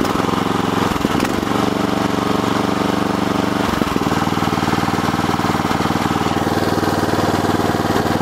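Small engine of a tracked wheelbarrow running after being tipped over, a loud steady close chugging idle with a brief stumble near the start and another around the middle, no talking.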